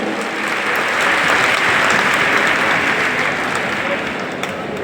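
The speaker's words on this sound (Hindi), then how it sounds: "दिल्ली सरकार में मंत्री रविंद्र इंदर जी, एक बार जोरदार ताली में इनके लिए बजाओ।" Loud, sustained applause from a large crowd at an address by Delhi's chief minister, a thick continuous roar of clapping for a government minister that stays full and even throughout.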